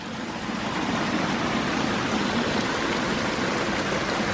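A waterfall pours steadily over sloped rock work in a landscaped garden with an upper wetland, a dense, loud, unbroken rushing wash.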